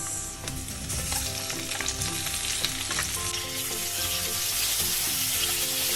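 Ginger and tomato fry steadily in a hot pan, a continuous bright sizzle with occasional stirring clinks and scrapes, close and fairly loud throughout.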